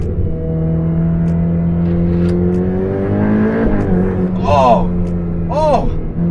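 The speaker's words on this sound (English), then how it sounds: "the sound, I know it's a turbo engine, but it sounds like a Ferrari" Turbocharged Ferrari 488 Pista Spider engine droning steadily while driving, with rising revs swelling toward the end, heard from inside the car with people talking over it.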